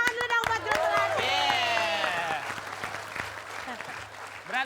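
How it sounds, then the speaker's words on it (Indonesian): Studio audience applauding the Jeruk Melati group on a comedy game show, broadband clapping over a steady hum, with loud overlapping voices and excited shouting throughout. "kita tepuk tangan dulu dong buat Jeruk Melati"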